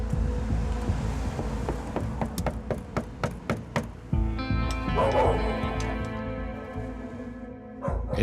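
Two large dogs at a rental property bark in a rapid, loud, close series of deep woofs, the barking building into overlapping, sustained yelps and whimpers in the second half.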